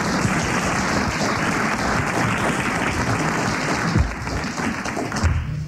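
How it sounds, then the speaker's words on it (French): Studio audience on a French radio panel show breaking into sustained applause, dense even clapping that carries on throughout and eases slightly near the end. "Vous applaudissez Madame Grandrue, bravo."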